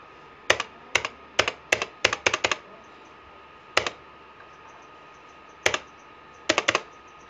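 Keys tapped on a computer keyboard while working in MS Word, crisp close clicks in short quick clusters with pauses between bursts, no talk.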